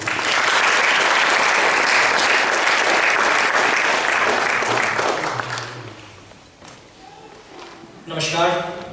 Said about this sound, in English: please give a big round of applause to Nilesh